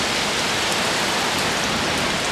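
Steady outdoor rain falls in a dense, even hiss, loud and unbroken, with no voices over it.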